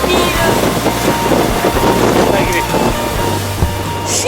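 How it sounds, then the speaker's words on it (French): Strong north-northwest gusts of around 25 buffet a sailboat sailing close-hauled in the Cyclades, a loud rushing roar of wind against the microphone mixed with water and hull noise. "on s'est fait ramasser solide par des vents nord-nord-ouest, donc au très bon plein avec des rafales à 25"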